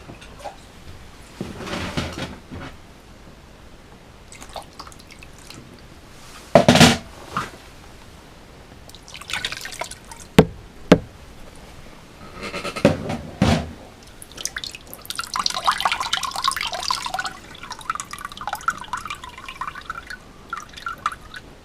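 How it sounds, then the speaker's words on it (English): Water dripping and trickling from squeezed joker fishing bait, intermittent drips and splashes with a few sharper knocks, growing into a steadier patter toward the end. "Give it a good squeeze this time."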